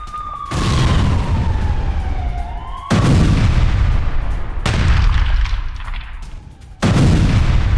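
Israeli air force strikes on Gaza: three heavy explosion-like booms land about two to three seconds apart, each a loud broadband blast with a long rumbling tail, and a falling whistle-like tone runs under the first.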